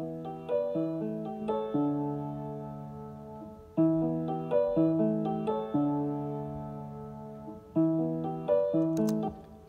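Grand piano captured with dynamic and condenser microphones layered together, playing sustained chords and a gentle melodic line in repeating phrases, clear and moderately soft with no voices.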